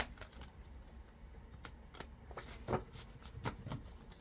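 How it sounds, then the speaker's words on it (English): Tarot cards are shuffled close up in a quiet room, the deck giving soft riffling swishes and sharper taps and flicks at irregular intervals, fairly faint overall. "one more shuffle"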